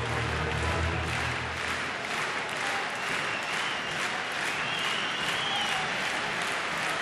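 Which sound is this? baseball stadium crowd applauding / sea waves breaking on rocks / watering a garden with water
baseball stadium crowd applauding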